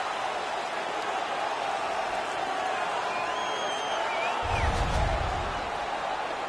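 Home crowd roaring at a fight in an ice hockey video game, a steady wash of cheering with a low swell near the end and commentary voices over it.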